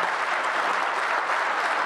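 Steady, dense applause from the audience at a transport workers' union mass membership meeting, continuous and fairly loud for two seconds.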